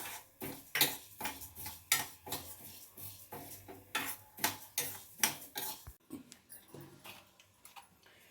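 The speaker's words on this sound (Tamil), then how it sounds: "இப்போ உளுத்தம்பருப்பு வறுத்துட்டு இருக்கேன்" Urad dal is dry-roasted in a pan with a rhythmic run of spatula scrapes and clinks against the metal, several sharp strokes a second, close and fairly loud, fading quieter toward the end.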